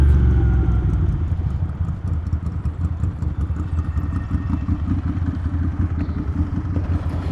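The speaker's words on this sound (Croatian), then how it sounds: "Baš ti se dere motor, brate." A Ducati motorcycle engine roaring close by, a loud, deep, rapidly pulsing rumble that stays steady throughout, with no speech.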